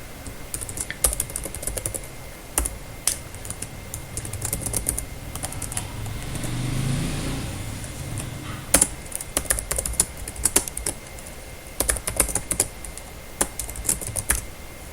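Computer keyboard typing while entering a cout statement in C++ code, bursts of quick clicky keystrokes with short pauses and a brief lull in the middle, close and alone.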